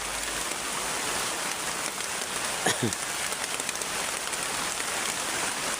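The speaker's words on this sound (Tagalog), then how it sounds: "Sobrang lakas po ng ulan mga lods." Heavy rain pours down in a constant loud hiss across every moment, with one brief sweeping tone partway through and no voices.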